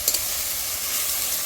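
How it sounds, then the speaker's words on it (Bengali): Onion and garlic sizzle steadily in a pan, a soft even hiss that holds throughout with only a faint stir or two near the start and no talking. "পেঁয়াজ রসুন একটু ভাজা ভাজা হয়ে গেলে তারপরে আদা"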